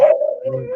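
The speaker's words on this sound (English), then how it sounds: "And that's my dog telling me to get the fuck off" A dog lets out a short, loud howl that starts high and wavers, then slides into a lower whining tone, heard close and alone for under a second.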